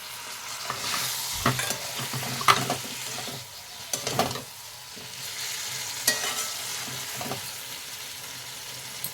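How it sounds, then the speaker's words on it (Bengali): Potatoes fry in a pan with mustard seeds and cumin: a continuous sizzle broken by several louder bursts and stirring scrapes, close and with no talking. "সর্ষেটা জিরেটা ভালো করে এই আলুর মধ্যে দিয়ে ভালো করে ভেজে নিয়েছি"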